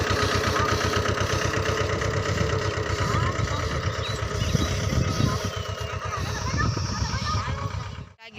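A tractor engine runs close by with a steady low chugging, loud throughout before cutting off abruptly at the end, while voices talk over it.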